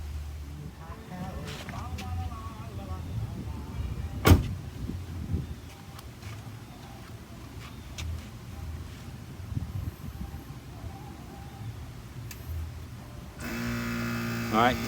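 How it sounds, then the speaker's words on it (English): The air suspension pump on a 2000 to 2014 Cadillac Escalade kicks on near the end, a steady electric motor drone that follows a long stretch of quiet hum and occasional handling clunks. "All right, the pump came back on."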